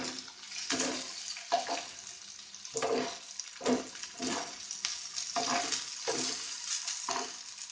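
Rava-coated kingfish fries in a pan over a medium flame, a soft continuous sizzle punctuated by repeated bursts as the pieces are turned and stirred, close by and moderate in level.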